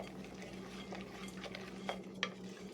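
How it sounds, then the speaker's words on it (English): Homemade granola mixture being stirred in a pot, giving soft scraping and a few light clinks of a utensil, faint over a steady low kitchen hum. "We're going to give this another stir."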